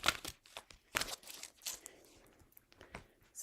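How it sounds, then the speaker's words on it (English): Soft papery rustles and crisp flicks come in short bursts, close by and fairly quiet, as tarot cards are shuffled. "Okay, so I'm shuffling off camera."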